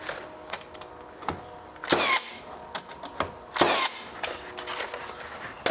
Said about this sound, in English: I shoot 2 nails into the stud here, and then I'll shoot 2 nails into the jamb.